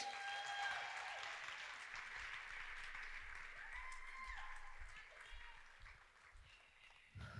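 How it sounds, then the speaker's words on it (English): An audience claps steadily to welcome someone speaker onto the stage at a faith gathering, a full and sustained round of applause that thins slightly toward the end. "Can you clap your hands and welcome Danae to the stage?"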